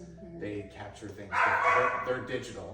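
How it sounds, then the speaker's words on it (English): Dogs barking and yipping in the background under a man's ongoing speech, with a louder burst of barking partway through. "Sorry about the dogs barking."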